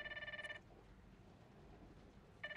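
A phone ringing in the video game The Darkest Files, two electronic trill bursts at the start and end of a quiet stretch, clear and fairly close over faint background noise.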